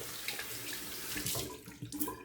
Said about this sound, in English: Let me rinse a little bit better.